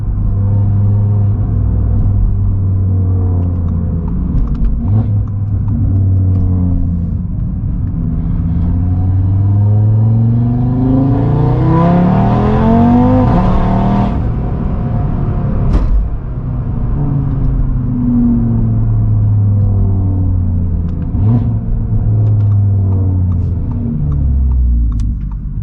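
A Stage 2 Audi RS3 pulling hard with traction control off, heard from inside as the engine climbs through several rising sweeps and gear changes, loud and continuous with no talk.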